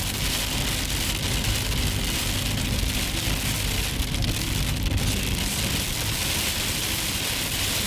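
Heavy rain drumming on a car while driving at night on a remote road in Glacier National Park, a dense, loud, steady hiss and patter with low road rumble and no voices.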